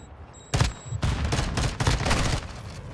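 A close, loud burst of several heavy gunshots fires in rapid succession, followed by a trailing echo, in a Modern Warfare 2 multiplayer match.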